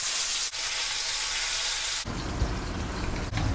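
Ribbon fish fries in a pan, a loud continuous sizzle that surges sharply when a piece is flipped over partway through.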